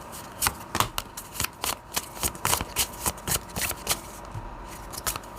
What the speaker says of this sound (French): Je vais prendre une carte pour vous